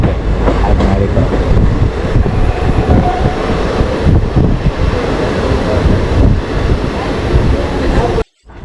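A passenger train rolls along, heard from inside a carriage: a loud, steady rumble of wheels and wind noise that runs continuously, then cuts off abruptly near the end.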